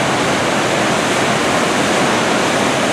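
Steady, loud rushing roar of Susan Creek Falls in the Umpqua National Forest, a continuous broadband wash of falling water with no breaks and no voices.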